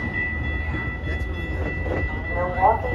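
A Metra commuter train on the Milwaukee West line rumbles low at Franklin Park station with a steady high whine, while a public-address voice speaks over it.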